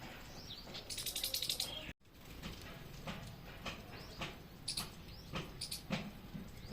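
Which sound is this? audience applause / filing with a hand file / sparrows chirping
sparrows chirping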